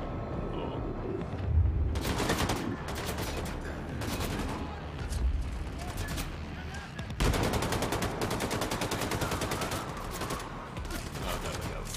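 Rapid gunfire from a first-person shooter, Wolfenstein II: The New Colossus, with bursts of automatic fire and sharp shots repeating throughout, heard at moderate level with occasional voices under it.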